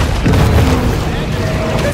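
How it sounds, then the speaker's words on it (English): A torpedo blast in the shark game Maneater: one deep, heavy boom bursting up loud and close, then rumbling on as game noise continues. "torpedo!"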